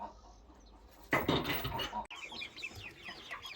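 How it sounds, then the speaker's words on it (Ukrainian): Crossbred bantam chicks and grown chickens cluck and peep together in a farmyard, quiet at first and then a sudden louder burst of busy, overlapping calls near the listener. "Отакі от вже курчатка помісні, бентамка"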